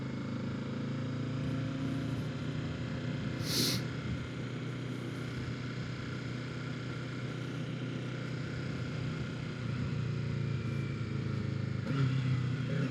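A 2025 Kawasaki Ninja 650 ridden on a cold day drones steadily for about thirteen seconds, the engine note rising and shifting as it upshifts, under constant wind rush with a brief sharp noise partway through.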